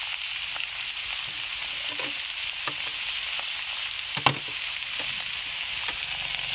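Bottle gourd curry with salt added being stirred in a small pan, a continuous low sizzle broken by soft scraping and occasional spoon taps, one louder clack near the end, with no talking.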